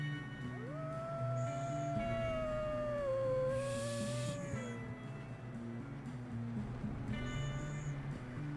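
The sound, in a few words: wolves howling in the video game Red Dead Redemption 2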